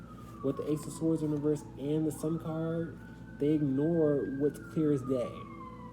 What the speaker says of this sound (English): I don't know if you hear these sirens in the background